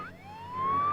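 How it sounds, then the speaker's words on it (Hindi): An ambulance siren sounds close and loud, a rising electronic wail that swells and grows stronger toward the end, with traffic rumble beneath. "एम्बुलेंस में सायरन होती है, सायरन के बजने से रास्ता मिलता है।"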